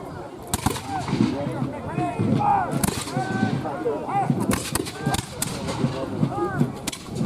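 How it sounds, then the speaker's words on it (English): Musket platoon volleys crack out in rapid succession down a line at a battle reenactment of the Siege of Old Fort Erie, sharp loud reports under a murmur of crowd talk. "the British are using platoon volleys, so they go down the line"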